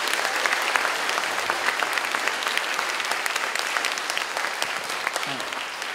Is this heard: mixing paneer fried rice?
no